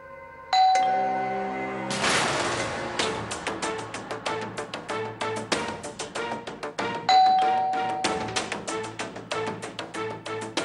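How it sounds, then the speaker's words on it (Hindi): A chiming doorbell rings repeatedly, its ding-dong tones overlapping into a continuous jangle with no talking. "कितनी देर से दरवाजे की घंटी बज रही है"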